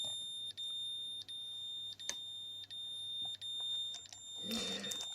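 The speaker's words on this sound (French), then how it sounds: "je viens de déclencher l'alarme" A BR-9B dosimeter alarm beeps high-pitched and continuously with brief regular interruptions, fairly faint, followed by a short rustle near the end.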